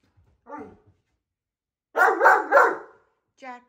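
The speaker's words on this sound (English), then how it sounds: "Stop barking." A dog barks nearby: one short bark, a pause, then a quick burst of three loud barks, followed by a brief yelp at the end.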